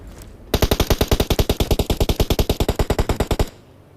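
Automatic gunfire sprays in a shooting video game, a loud, steady burst of about thirty evenly spaced shots lasting roughly three seconds and then cutting off, with no talk.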